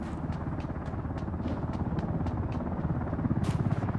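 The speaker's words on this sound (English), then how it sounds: "Oh, they're getting in the helicopter, man." A helicopter in the video game Ring of Elysium whirs with a steady rotor buzz and rhythmic chopping pulses, a sustained drone that swells slightly louder toward the end.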